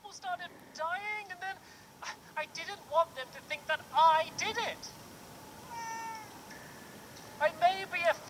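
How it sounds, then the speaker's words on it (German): A cat in Minecraft Story Mode meows again and again in short, clear, close cries. They come in bursts at the start and again near the end, with a quieter gap between them. "Macht er die Katzengeräusche oder hat der weiße Kürbis wirklich eine Katze?"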